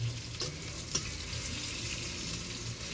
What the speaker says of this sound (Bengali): আর ওদিকে বেগুন ভাজা হচ্ছে